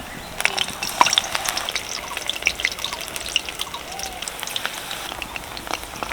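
Battered onion fritters dropped into plenty of hot oil in a kadai sizzle and crackle continuously, a dense, moderately quiet spattering with scattered sharper pops and no talking.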